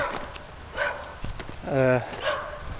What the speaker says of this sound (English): That little dog barking at me.